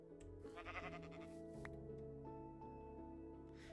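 Sheep bleating in the Minecraft video game, a couple of short nasal bleats over a quiet game soundscape, clear and near.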